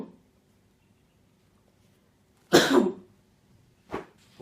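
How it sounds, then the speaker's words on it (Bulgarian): A person in a classroom coughs in two separate bursts: a loud, harsh fit of several coughs, then a shorter cough after a quiet gap. "Когато не можеш да спреш да кашляш в час."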